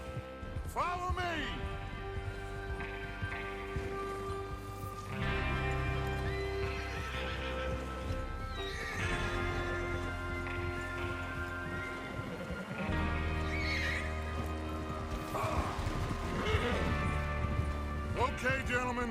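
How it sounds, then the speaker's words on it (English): Horses in Red Dead Redemption 2 clip-clop and gallop steadily, with repeated neighs and whinnies breaking through, while voices talk over the hoofbeats and a low musical drone. "Get your horses ready."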